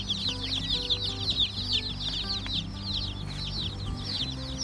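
A brooder full of young Cornish Cross broiler chicks keeps up a dense chorus of high peeping, continuous and close, over a low steady hum.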